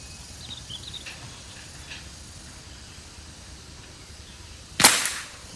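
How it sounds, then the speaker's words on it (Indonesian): A single sharp shot from a Sanca Gear Gen 5 air rifle cracks out near the end, preceded by quiet outdoor ambience with faint insect chirps. "8 tembakan aja ya guys ya untuk akurasi ini"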